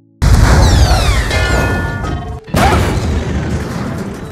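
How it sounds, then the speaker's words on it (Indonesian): A loud explosive boom as a train explodes in an animated film erupts suddenly, followed by roaring, crackling debris and a second blast midway through, dense and close. "Beruntung mereka sempat keluar sebelum akhirnya kereta itu meledak"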